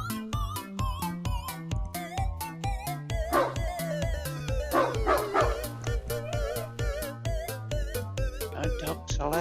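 In an indie video game built at a game jam, a dog barks and yips in a rapid rhythmic series of short, tonal, synthetic-sounding barks over a steady electronic backdrop.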